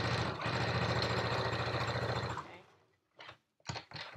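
A sewing machine stitching a Yup'ik qaspeq runs in a steady close burst for about two seconds, then winds down and stops, followed by a few short thumps and a brief spoken word.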